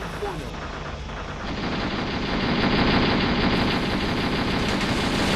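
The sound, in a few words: sniper gunfire in video game Steel Armor Blaze of War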